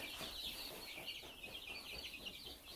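Broiler chickens clucking at a farm at feeding time, a continuous flock chatter of overlapping clucks and calls at moderate distance with no talk over it.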